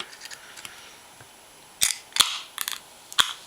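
A can of Cacti agave spiked seltzer is opened with a few sharp, close metallic clicks and snaps spread over about two seconds, after a quiet lead-in.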